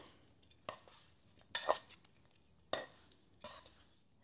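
Seasoned steak pieces for a steak and mushroom pie being tossed in a bowl to coat them, four short clattering scrapes and knocks spaced irregularly over a quiet background.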